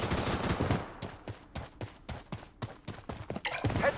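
Rapid automatic gunfire from the mobile shooter game Blood Strike, with bursts of sharp repeated shots in quick rhythm, loud and close, followed by a brief clatter at the end.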